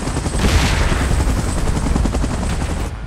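A video game helicopter sounds loud and close, its rapid rotor thump mixed with continuous gunfire-like rattling across the whole stretch before cutting off sharply at the end.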